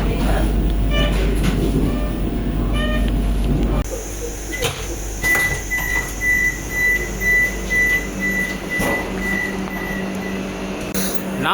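Vande Bharat Express pulling into Namakkal station on the Madurai–Bangalore route, a heavy low rumble that drops off, followed by quieter platform ambience with a sustained high whine and scattered clunks.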